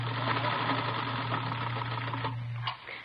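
A sewing machine runs steadily and loudly at close range for nearly three seconds, its rapid mechanical whir cutting off abruptly near the end, staged as a radio drama sound effect.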